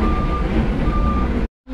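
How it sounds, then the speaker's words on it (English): A lorry carrying carrots passes close by with a loud, steady engine rumble while a repeating reversing beeper sounds over it, then the noise cuts off abruptly near the end. "And there goes the Bartlett's lorry with the carrots."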